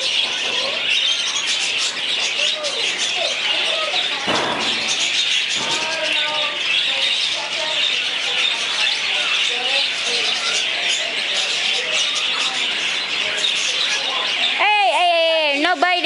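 Small birds chirp and tweet continuously inside an indoor bird house at a convention, a dense, close chatter of overlapping calls with people talking over it and a louder run of warbling notes near the end.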